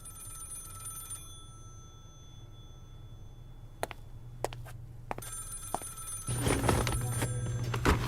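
Telephone bell ringing at a police department in a radio play: a steady run of bright rings from start to finish, mid-distance, with a few sharp knocks and a louder hum building near the end, and no talk.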